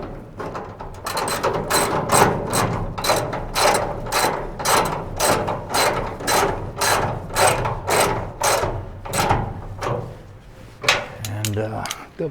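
A hand ratchet tightens a hood brace pad on a 1960-66 Chevy/GMC truck, giving close, rhythmic clicking strokes at a steady pace that slow and pause near the end.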